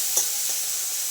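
Spice paste with ginger paste sautés in a pan for an egg tarka made with masoor dal, a steady hissing sizzle with a couple of soft stirring scrapes, close and brief.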